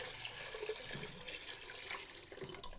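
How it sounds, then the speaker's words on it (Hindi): Water pours steadily into a pot of washed red lentils, a continuous close splashing rush that fills the whole short stretch without any talk over it. "साथ ही इसके अंदर मैंने पानी शामिल कर देना।"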